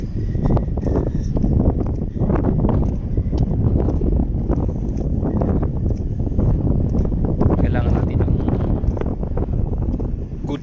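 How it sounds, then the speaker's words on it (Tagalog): Strong wind roars steadily across the microphone while walking on an oval track, a dense, loud rush of buffeting noise that barely lets up for the whole stretch. "tingnan kahit malakas ang hangin"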